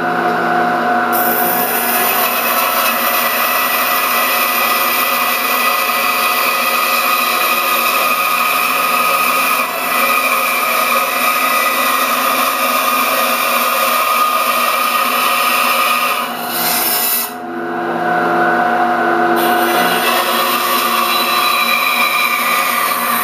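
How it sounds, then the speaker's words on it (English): A power saw cuts through a piece of 2x4 lumber in a workshop, a loud, continuous high-pitched whine with a grinding edge that holds steady for about seventeen seconds, dips briefly, then resumes. "we're going to be using that to easily cut our piece of 2x4 here"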